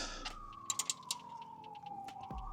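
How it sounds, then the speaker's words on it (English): A socket wrench ratcheting bolts on an e-bike rack, a few quick clicking ratchet bursts close by over a faint steady whine. "That's why I like using a socket wrench"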